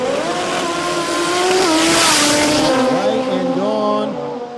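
Drag race cars at a Brisbane drag racing meet, one a tiny Datsun, roar loudly down the strip as engines rise and fall in pitch, with an announcer's voice carrying over the noise.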